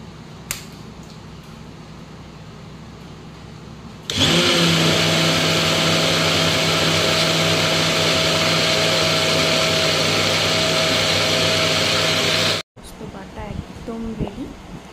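A kitchen mixer grinder starts abruptly and runs at a loud, steady high-pitched whine for about eight seconds, then cuts off, with quiet room sounds before and after.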